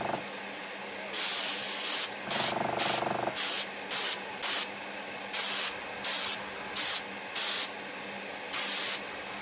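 White paint is sprayed onto a Fine Molds 1:500 Yukikaze missile escort ship model, heard as a series of short hissing bursts of an airbrush or spray can, close and separated by brief pauses.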